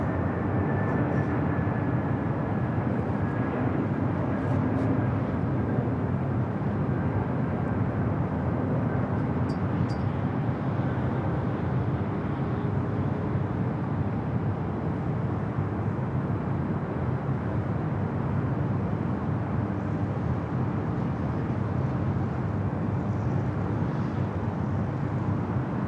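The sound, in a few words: airplane arriving at LAX airport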